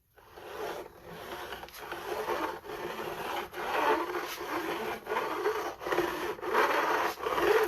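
Fret ends on a bass guitar neck being filed to a bevel with light pressure: a steady, close rasping scrape repeated in even back-and-forth strokes, with brief pauses between passes and no talking.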